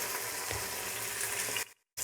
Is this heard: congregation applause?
no